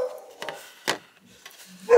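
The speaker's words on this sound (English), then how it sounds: "Do apologise about the dogs barking in the background." A few sharp dog barks in the background, spaced irregularly, with quieter gaps between them.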